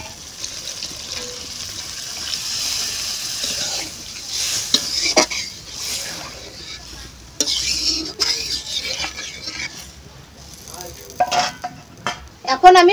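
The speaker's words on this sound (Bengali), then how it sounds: "এখন আমি পরিমাণ মতো জল দিয়ে দেব।" Water poured into a pot of masoor lentils and eggs, sizzling and bubbling with spoon stirs and metal scrapes against the pot, close and fairly loud without any talking.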